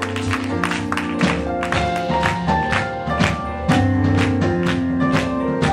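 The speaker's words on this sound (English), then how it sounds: "Come on, everybody clap your hands" A church congregation clapping hands in steady rhythm along with music, the claps crisp and repeated throughout.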